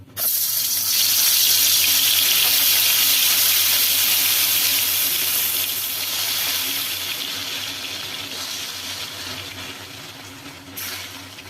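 Rohu fish pieces slide into hot oil, setting off a loud, steady hiss of frying that stays close and gradually eases over several seconds.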